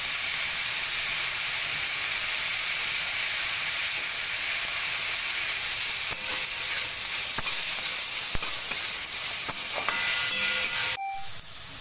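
Onions and spices frying in a pan for noodle soup give a steady, loud sizzle and hiss, with a few stirring knocks and clinks, and the sound drops suddenly near the end.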